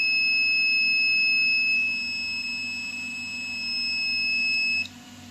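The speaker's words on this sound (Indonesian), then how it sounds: "di range 500 sampai dengan 1000 dia akan menyalakan buzzer dan LED merah" A gas sensor circuit sets off its buzzer, a continuous high electronic tone holding steady for several seconds before cutting off abruptly near the end.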